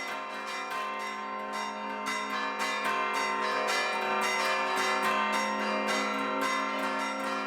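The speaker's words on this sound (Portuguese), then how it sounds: "Esses toques de sino, o que a gente faz" Church tower bells ring a repique peal, with rapid rhythmic strikes that blend into a dense, sustained wash of ringing tones. Each ring is heard clearly, and there is no talking.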